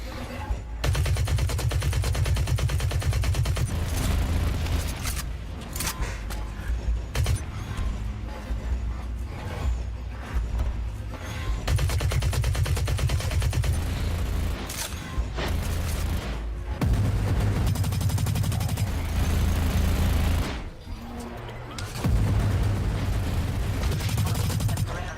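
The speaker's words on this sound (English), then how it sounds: "That's a sniper rifle." Sniper rifle fire in a first-person shooter game, booming shots scattered through dense, loud game audio with mechanical noise and explosions, a voice talking over much of it.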